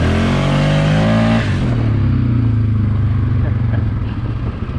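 A motorcycle fitted with a new clutch kit revs hard, its engine note climbing sharply then settling into a rough, loud idle-like rumble.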